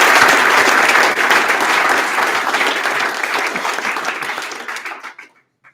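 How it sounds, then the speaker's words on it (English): A room of people at an annual meeting applauding, loud dense clapping that carries steadily for several seconds before tapering off and ending abruptly. "So let's give that a round of applause."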